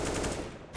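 Rapid AK-47 automatic fire in the video game CS:GO, a dense, loud burst of shots followed by one more crack right at the end.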